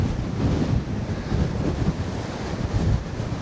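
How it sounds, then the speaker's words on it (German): Strong coastal wind at WW2 bunkers, a heavy, steady roar buffeting the microphone with a rumbling low end, loud and unbroken throughout with surf-like texture and no talk. "der Wind ist richtig krass jetzt hier"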